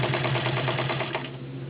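A Rolls Class 15 clone all-metal straight stitch sewing machine stitching through ten layers of cotton, a fast, steady mechanical clatter of rapid even stitches, close and continuous.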